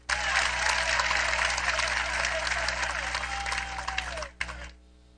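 Audience applause from a large crowd at a public gathering in Haiti, dense continuous clapping that holds steady and then fades out near the end, with a faint sustained tone running under it.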